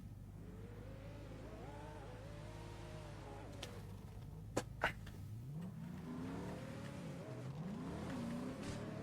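A car engine revving up and down in rising and falling sweeps, steady and fairly loud throughout, with a couple of sharp clicks midway and no talking.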